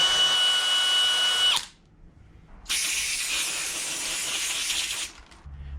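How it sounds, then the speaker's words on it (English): A wire wheel on a power tool scrubs a flange mating surface during a Toyota carrier bearing job, giving a harsh high hiss in two bursts separated by a short pause, the second longer and steady. "Mating surface I'm going to hit with a wire wheel."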